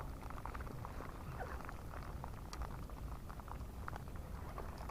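Rain falls steadily during fishing for tilapia, a dense continuous patter close by with no pauses and no voices.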